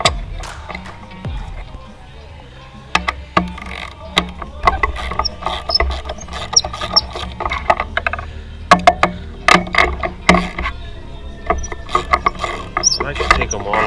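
A hand ratchet loosens the spark plugs on a 2014 Mercedes C250, giving bursts of irregular sharp clicks and metallic clatter up close, with low background noise throughout.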